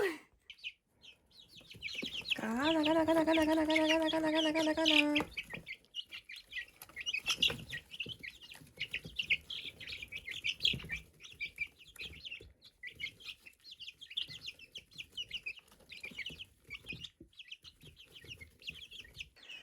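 Young chicks in a dirty brooder give a loud burst of clucking and peeping for a few seconds, then scattered soft chirps and calls continue faintly over a quiet background.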